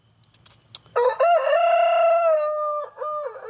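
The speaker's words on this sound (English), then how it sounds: "I got to get these chickens to bed" A rooster lets out one loud, close, drawn-out crow after a few soft clucks, with a short clucking tail at the end.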